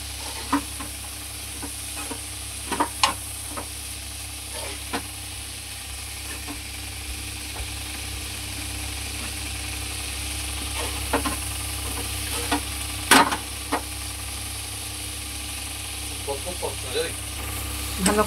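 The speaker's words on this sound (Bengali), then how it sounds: "মশলার সাথে মাছটাকে ভালো করে এরকম করে মিশিয়ে নিতে লাগবে" Fried tangra fish being stirred with spices in a pan, with repeated scraping spoon strokes over a low continuous sizzle and hum.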